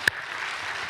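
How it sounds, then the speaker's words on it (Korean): Congregation applause in a church at the close of a sermon, a steady wash of many hands clapping that fills the whole short moment, with a brief sharp knock near the start. "이 아래층에 박수로 하나님께 영광을 돌리고"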